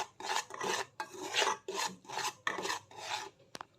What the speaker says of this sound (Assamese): এতিয়া এইখিনি অকণমান লৰাই এনেদৰে ভাজি ল'ম।